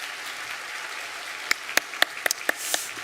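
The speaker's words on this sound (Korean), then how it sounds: "우리 박수 한번 하겠습니다" Scattered claps ring out in a church congregation during a Korean harvest thanksgiving service, a handful of distinct hand claps at irregular intervals over a quiet room hum.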